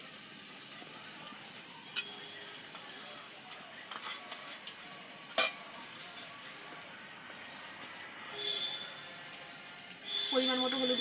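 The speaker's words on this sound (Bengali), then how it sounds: "এবার আমি এর মধ্যে দিয়ে দেবো" Ginger garlic paste is stir-fried with potato, onion and Malabar spinach in a pan for duck curry, a faint sizzle under occasional spoon clinks and scrapes, fairly quiet throughout.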